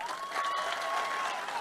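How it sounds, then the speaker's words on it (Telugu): A crowd claps and applauds at a political meeting, a dense, steady round of fairly distant applause that runs throughout without talk. "ఉప సర్పంచులు గట్టిగా ఒకసారి చప్పట్లు."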